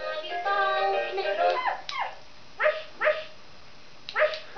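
A dog barks in a few short, sharp yips spaced about a second apart, close and fairly loud, following a stretch of higher whining or vocal sounds at the start.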